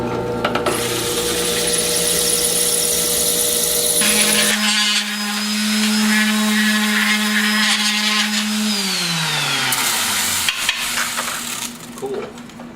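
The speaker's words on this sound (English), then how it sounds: "I'm going to drill some holes in this to lighten it up a bit." A power drill boring holes in a Honda Sabre motorcycle part to lighten it, with a loud whining motor that changes pitch as it bites into the metal, winds down near the end, and gives a few scraping clicks.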